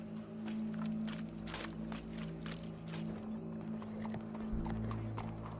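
Horse hooves clip-clop at a steady walking rhythm in the video game Red Dead Redemption 2, close and clear over a constant low hum, with a brief snort near the end and no speech.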